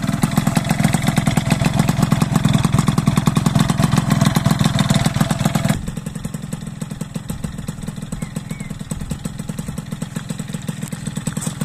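A 50cc moped engine fitted with an air box idles with a steady, rapid mechanical putter, close and loud throughout, dropping slightly in volume partway through but keeping the same even rhythm.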